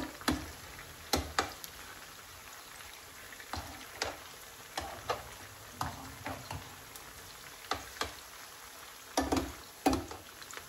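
Chiles sizzling in oil in a pan, a quiet, steady fry under scattered sharp pops and occasional tossing clatter, heard up close without any voices.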